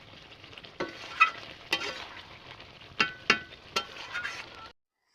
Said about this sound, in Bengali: আমি এভাবে ঢাকনা দিয়ে আমি এটাকে ভালোভাবে মাংসটাকে আমি কষে নিচ্ছি, ভাজে নিচ্ছি।